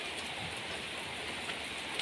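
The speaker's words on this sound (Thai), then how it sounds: "พายุเข้าแบบว่าทั้งวันจริงๆค่ะ" Storm rain falls steadily, a dense even hiss of drops hitting surfaces close by, unbroken for the whole short stretch.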